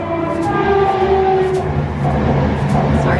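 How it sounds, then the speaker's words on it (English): A train passes close by with a continuous loud rumble and rolling rail noise, steady tonal whines layered throughout and no talk over it. "Sorry about the train."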